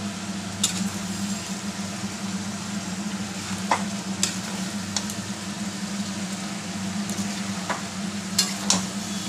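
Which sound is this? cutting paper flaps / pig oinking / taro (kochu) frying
taro (kochu) frying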